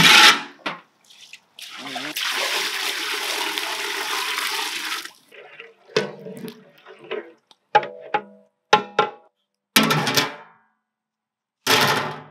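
Water poured from a vessel into a cooking pot for village-style chicken dum biryani, one long splashing pour followed by several short bursts of pouring and clatter, close and fairly loud.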